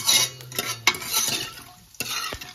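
Mutton biryani being stirred in a pot, with bursts of scraping and clattering of a ladle against metal over a soft sizzle and a few sharp knocks.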